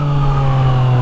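A Yamaha MT-09 motorcycle fitted with a LeoVince full exhaust idles loudly at close range, giving a steady, low throbbing hum with no talk over it.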